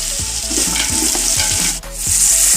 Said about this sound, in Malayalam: ഒരു 1/2 സ്പൂണ് സാൾട്ട് ഇട്ട് കൊടുത്തിട്ട് നമുക്കിത് ഇളക്കി കൊടുക്കാം